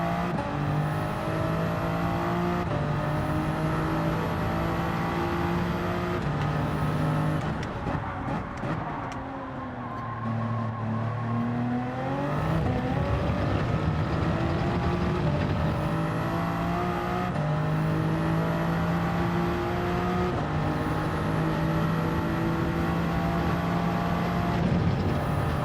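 BMW race car from Gran Turismo 7 lapping Spa, engine screaming loudly through repeated upshifts, a dip in revs around mid-lap through Eau Rouge, then climbing back to a sustained high-pitched wail.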